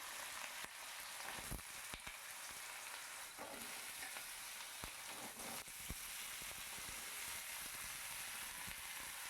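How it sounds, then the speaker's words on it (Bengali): Diced potatoes sizzle and crackle steadily in hot oil in a wok for an Alu Peyaj Posto, a continuous dense frying hiss with a few sharper pops and stirring clatters, close and without talk. "কড়াইতে তেল চাপিয়ে দিয়েছি তেল গরম হয়ে গেছে এর মধ্যে আলুগুলোকে সম্পূর্ণটা ছেড়ে দেবো"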